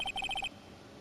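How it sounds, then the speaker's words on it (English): Phone ringtone from the Phoenix Wright video game playing a theme: a short bright electronic melody of about seven quick repeated beeps over half a second, then silence. "I know that song your phone plays when it rings."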